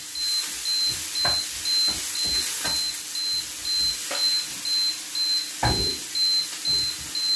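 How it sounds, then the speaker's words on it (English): Food sizzles steadily in a frying pan while it is stirred, scraping knocks and clatters of the utensil landing irregularly over the hiss, with a faint steady high electronic tone beneath. "Stir that up."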